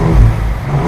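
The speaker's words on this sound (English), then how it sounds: "And then you got Baja off-road. I can feel the difference in the exhaust." Ford Bronco Raptor in Baja off-road mode revving, a deep bassy exhaust rumble that swells briefly and then holds steady, loud and close with no talking.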